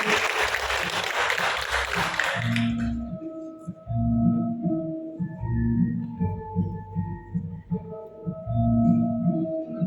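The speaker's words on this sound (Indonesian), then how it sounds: "Beri tepuk tangan yang meriah Bapak Ibu." An audience at a seven-month pregnancy ceremony bursts into clapping, a brief loud crowd burst that quickly gives way to quieter rhythmic music.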